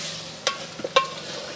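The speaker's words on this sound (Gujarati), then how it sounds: "શાક હજી તો સડે છે તેલમાં" Sodhiya shaak, a vegetable curry with onion and tomato, fries in oil in a pan with a soft background sizzle broken by a few quick stirring scrapes.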